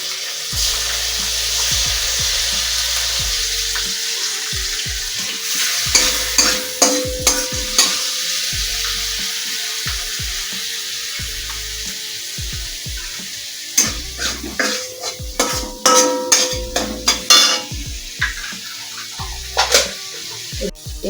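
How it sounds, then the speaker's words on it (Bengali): Tomato paste sizzles in hot oil in a pan while a spoon stirs it, steady frying hiss broken by repeated scraping and clinking strokes that cluster in bursts, close and fairly loud, with no speech. "এবার আমি টমেটো পেস্টটা দেবো।"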